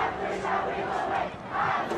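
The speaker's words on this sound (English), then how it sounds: "Crowd getting into it now here." Football fans cheer in a stadium during a game involving the Potters, a loud, continuous crowd roar with swells building and easing over a couple of seconds and no voices standing out.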